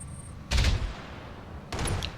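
Autocannon fire in the BattleTech video game comes from quite a range: two separate booming bursts, each lasting about a quarter second, more than a second apart, moderately loud with no talk.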